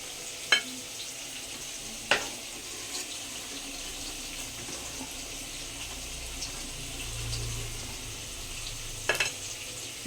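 Potatoes fry in a pan with a soft, steady sizzle, close and low in level, broken by a few sharp clinks of a utensil against the pan.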